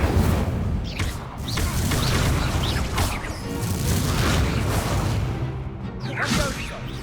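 Incendio fire spells cast in the middle of a fast Hogwarts Legacy duel, a dense run of whooshes, whip-like swishes and low booms that overlap one another with hardly a pause.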